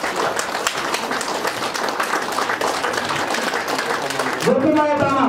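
Sustained applause from an audience at a ceremony honoring named guests, with thick, close clapping that runs for several seconds before a voice begins speaking near the end.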